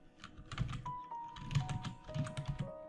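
Keyboard typing on a computer, entering a search term into a search bar: a quick run of soft key clicks in uneven bursts over a low, steady background hum and faint tones.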